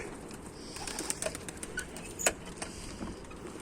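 Mardin pigeons fly and coo outdoors, soft cooing calls drifting over a steady faint background hiss, with a few sharper chirps and light wing sounds and no voices.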